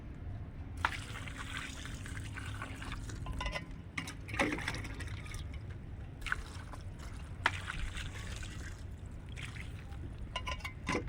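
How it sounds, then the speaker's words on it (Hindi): Water is poured over a layer of dried orange peels in a plant pot, a close, continuous trickle and slosh with scattered splashes and small knocks, and no one talks. "अब इसके ऊपर से मैं इसमें डाल रही हूँ पानी।"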